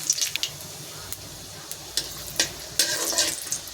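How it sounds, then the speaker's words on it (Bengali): Panch phoron spices and a whole dried chilli hit hot oil in a pan, giving faint crackling and sizzling with scattered sharper pops that grow busier toward the end. "তেলটা গরম হয়ে গেছে, দিয়ে দেবো 5 ফোড়ন, দিয়ে দেবো একটা গোটা শুকনো লঙ্কা"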